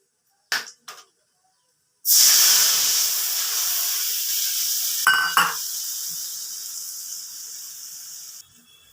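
Spice paste with cumin powder hits a hot pan for a rui fish malai curry, bursting into a loud, steady sizzle and hiss after a couple of brief clinks, with one stirring scrape midway.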